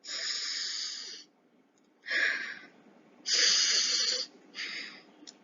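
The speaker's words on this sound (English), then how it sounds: "If you can hear the sound, this is called sniffing." Several sharp, hissy breaths drawn through the nose in separate bursts, close and clear, with quiet gaps between them.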